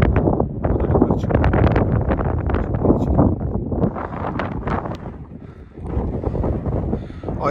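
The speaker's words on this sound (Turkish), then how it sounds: "Acayip rüzgar var ya." Strong wind roars and buffets the microphone in loud, gusty waves throughout, at a hilltop by a marble quarry.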